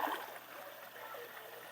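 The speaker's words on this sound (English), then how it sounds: "Waterfall's working." A garden pond waterfall runs on, a steady soft rush and trickle of falling water, fairly faint and continuous, with no speech.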